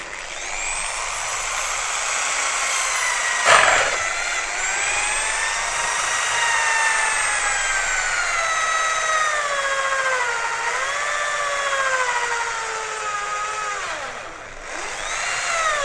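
A drill bores into wood, a high steady whine that bends downward in pitch as the bit loads and eases, holding close and loud for about fifteen seconds with a brief knock partway through.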